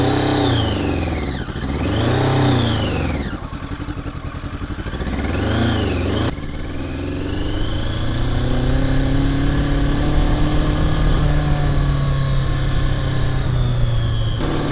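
A Yamaha XJ650 Turbo motorcycle engine, running rough and not performing properly, revs up loudly and repeatedly before settling into a steady, strong running note at close range.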